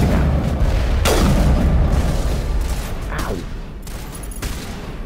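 Weapon fire from the Mass Effect video game, with heavy booming shots landing around 1 and 3 seconds over a continuous rumbling battle backdrop, loud and close.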